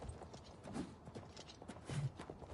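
Horse hooves clip-clop in the video game Oblivion, a quiet, uneven run of soft hoofbeats with no talking.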